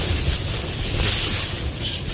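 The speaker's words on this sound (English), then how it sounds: "It's just wind kicking it up." Strong Storm Isha wind gusts around a tent at a wild camp in the Lake District, whipping loose snow into the air; a steady, close, full-bodied roar with slight surges and no voices.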